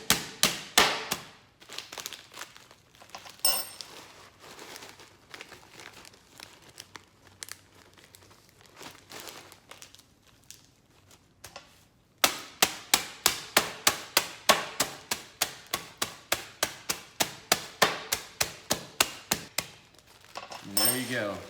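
Instant ramen crushed inside a tightly closed bag with a small food hammer: a long series of sharp crunching, crinkling blows, irregular at first, then fast and regular, close and fairly quiet.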